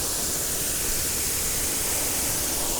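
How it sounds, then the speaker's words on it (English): A low-pressure water broom spraying under a boat or four-wheel drive to rinse off salt residue, a loud, steady, even hiss of rushing water with no pauses. "That's the water broom."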